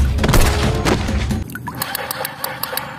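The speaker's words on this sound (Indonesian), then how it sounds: "Wadidaw, tembak-tembakannya berbunyi ya teman-teman." Battery toy gun firing electronic shooting effects while toy dinosaurs play, first a dense loud burst of crashing blasts, then a run of quicker, lighter rhythmic pops and zaps, close and alone.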